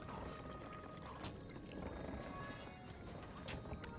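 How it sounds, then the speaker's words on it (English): Rushing, splashing water falling in the video game Trine 2, a dense, steady wash of noise that continues unbroken at a moderate level, with no voices over it. "Look how slow the water's falling."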